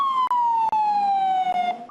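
A single emergency siren on a New York street holds one long, slowly falling wail, fairly loud, with a few faint sharp clicks over it and no talking.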